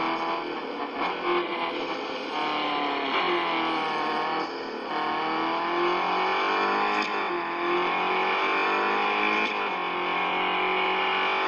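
A racing car's engine in the mobile game Real Racing 3, played on a Lenovo P2 phone, holds a steady sustained roar throughout, rising and falling slightly in pitch as it accelerates and shifts.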